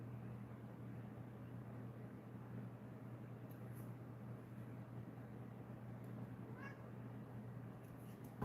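A cat gives a single faint, brief meow some distance off, nearly buried under a steady low electrical hum that fills an otherwise quiet room, with no voices.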